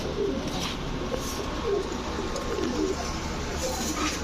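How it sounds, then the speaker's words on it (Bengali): A red khaki female pigeon and others coo softly in short, scattered murmurs over a steady background hiss, the calls faint and intermittent. "লাল খাকি একটা মাদি কবুতর, গলা কষা লাল খাকি মাদি কবুতর"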